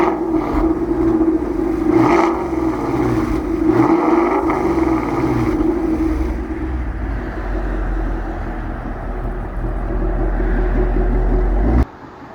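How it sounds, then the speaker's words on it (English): Idling exhaust of a 2016 Ford Mustang GT Premium Performance with a six-speed manual, a loud close deep rumble with a few gentle rises in engine speed before cutting off abruptly near the end. "give you a quick exhaust clip, just so you can hear it revving a couple times"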